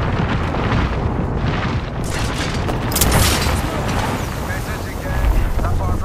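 Artillery strike explosions from Apex Legends on the Olympus map boom in a dense, rumbling series, heavy low blasts overlapping with wind-like roar and loud crackling bursts around the middle and end.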